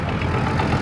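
An old red belly tricycle-model tractor engine idles at a cotton gin festival, a close, steady low chugging for under a second with no talk.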